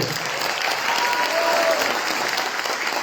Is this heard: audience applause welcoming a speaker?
yes